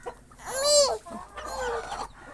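A mother hen with chicks clucks and cries out in two drawn-out, nasal calls, close by, with a brief pause between them.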